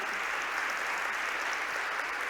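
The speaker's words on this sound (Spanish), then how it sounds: "Entonces, sí, gloria a Dios, aplaudo acá." Church congregation applause during a pastor's sermon, a steady, even roar of many hands clapping at moderate distance, sustained without pause.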